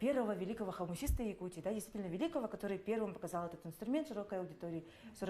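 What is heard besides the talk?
No everyday noise stands out behind the speech.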